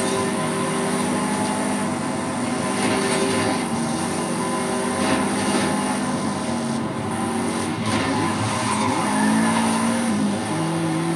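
A race car in Forza Horizon 5 brakes hard and skids, its engine droning steadily under a long tire squeal, fairly loud and unbroken throughout.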